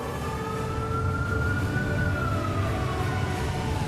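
A Singapore Civil Defence Force fire vehicle, the fourth-generation light fire attack vehicle, sounds its siren in a National Day Parade mobile column, a loud, steady rising and falling wail over constant traffic rumble.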